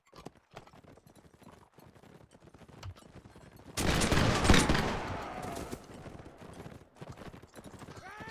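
In the video game L'Aigle, horses gallop with rapid clip-clop hoofbeats while a heavy burst of gunfire and battle noise erupts midway, then eases back to scattered hooves and neighs.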